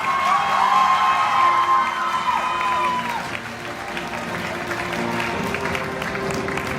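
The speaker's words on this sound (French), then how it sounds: "On les applaudit encore." A convention crowd at a Paris Manga Game of Thrones panel claps and cheers for the guests. The applause is loud and sustained, with whoops and shouts scattered through it, peaking early and then holding steady.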